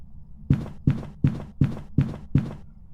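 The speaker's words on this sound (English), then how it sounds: "and slow twin will sound like this." Slow twin ghost from a Phasmophobia-style ghost hunting game, heard as six evenly spaced heavy thudding footsteps, loud and close, alone without talk.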